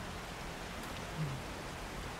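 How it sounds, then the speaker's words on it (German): Rain falling in the survival video game 7 Days to Die, a steady, soft hiss of downpour that stays even and fairly faint throughout, with no voices over it. "es regnet immer noch"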